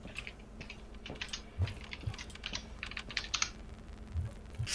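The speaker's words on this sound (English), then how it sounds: "I heard Sebs typing in game the exact same as in the VC." Computer keyboard typing carried over voice chat during a game of GTFO, a rapid, uneven patter of light clicks at moderate level, steady for several seconds with no talking.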